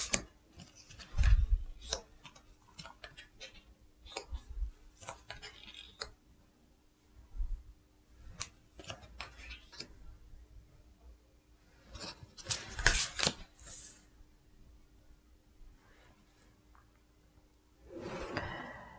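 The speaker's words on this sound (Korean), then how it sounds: "카드 나열 해보도록 할게요." Tarot cards laid out on a table in a series of soft, quiet clicks, taps and flicks, scattered and irregular, with a brief louder shuffle of cards near the end.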